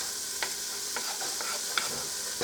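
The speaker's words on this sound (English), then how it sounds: "I'm going to put the onions down in there and you can hear it sizzle" Steady hissing sizzle of onions frying in a hot pan for macaroni and cheese soup, with occasional soft stirring clicks, close and continuous.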